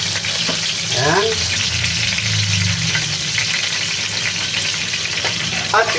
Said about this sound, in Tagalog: Mas masarap po kung medyo i-fry natin yung ating fish.